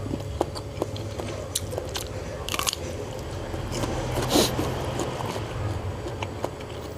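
Crunchy food being bitten and chewed, likely a crisp snack eaten with chili dip and fresh vegetables, heard as repeated close crisp crunches in an irregular rhythm with brief louder bites and no speech.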